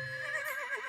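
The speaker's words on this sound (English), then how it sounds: "They are friendly horses." A horse neighs once, a short bright whinny with a wavering, descending pitch, close and clear with nothing else around it.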